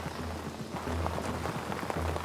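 Rain falls in the video game Dying Light 2, a steady dense patter of drops on surfaces with a low droning hum beneath.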